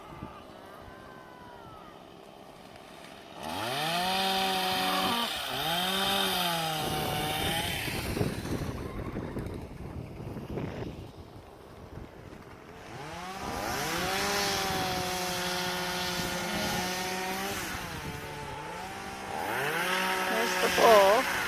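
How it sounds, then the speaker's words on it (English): A chainsaw runs at a distance on a ranch during a corral build, its buzzing whine rising and falling in two long bursts with a quieter lull between, faint against outdoor background noise. "Our chainsaw up here"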